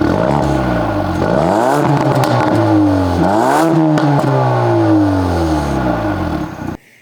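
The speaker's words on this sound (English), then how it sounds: "there's the exhaust. You've got crackle and pops on there." A Ford Focus ST Track Pack engine revs hard through several rising and falling sweeps, loud and close, with scattered crackles from the exhaust before it cuts off abruptly.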